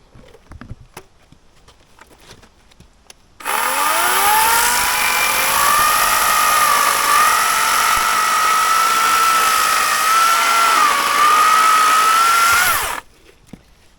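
A Wild Badger electric chainsaw starts up abruptly and runs loud and steady for about nine seconds, its whine rising and dipping slightly as it cuts, then stops cleanly.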